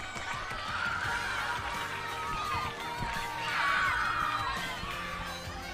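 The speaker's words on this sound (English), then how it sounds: "Let's give a round of applause to Shubhan Salvalongo" An audience at a school Easwaramma Day event cheers, laughs and whoops, with a louder swell of cheering near the end, children's voices prominent among the crowd.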